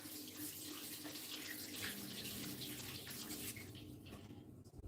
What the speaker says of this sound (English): This ginger, let me wash it.